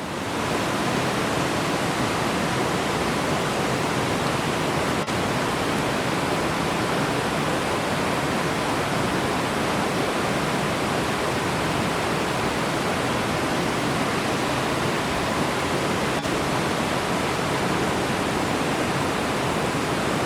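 Reynolds Falls in Tasmania plunges about 50 metres through a cliff notch, its water on the low side, making a loud, dense, unbroken roar that holds steady throughout.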